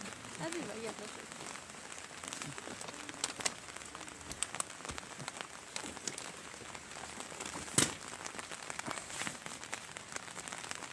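Steady rain in Cochas Chico, Peru, pattering on a surface with scattered drops and crinkly ticks, a faint voice now and then underneath.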